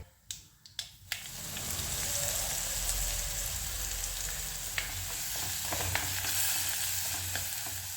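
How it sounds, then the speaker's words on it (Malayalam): Dried chillies and asafoetida hit hot oil for a sambar-style rasam; a few sharp crackles open, then a steady, close hiss and sizzle carries on with scattered pops. "കായവും കൂടി ഒന്ന് മൂത്ത് വന്നതിന് ശേഷം എല്ലാം കൂടി ഒന്ന് വഴറ്റിയെടുക്കണം"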